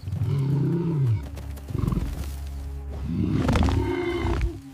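Lions roar and growl in deep, rough bursts during an attack on a buffalo herd, loud and close, with a falling moan at the start and a strained, rising growl near the end.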